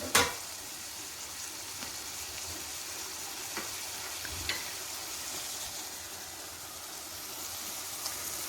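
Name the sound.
sautéing ginger garlic paste with onions for crab thoran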